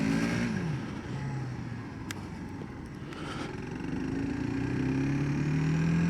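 A 2022 FB Mondial SMX125 motorcycle riding on the road, its engine droning steadily with rising and falling pitch as it accelerates, loud and close with wind rush throughout.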